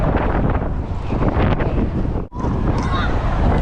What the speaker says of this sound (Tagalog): Napakalakas ng hangin mga kapanyero.